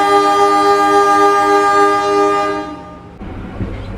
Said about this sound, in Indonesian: Kereta api Sri Tanjung telah tiba di stasiun Sidoarjo.